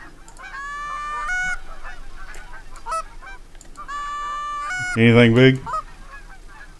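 Geese in theHunter: Call of the Wild honk in two overlapping bursts of nasal calls, then a louder, lower close honk near the end, with a voice speaking briefly beneath.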